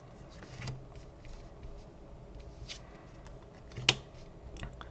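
Pokemon trading cards drawn one after another from a deck, giving soft papery slides and flicks with a sharper snap near the end, close and quiet, with no talking.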